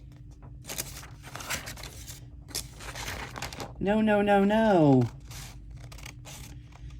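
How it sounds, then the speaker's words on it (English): Fabric scissors snipping through paper while crafting: a few short, crisp cuts and rustles, close and moderate in level, followed by a drawn-out spoken protest over the top. "cutting paper with my fabric scissors"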